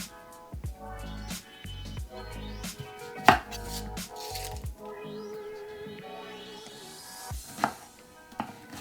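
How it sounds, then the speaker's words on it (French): Onions being chopped with a knife on a cutting board, crisp close blade strikes in irregular bursts with short pauses, fairly quiet and without talk. "je vais devoir couper des oignons"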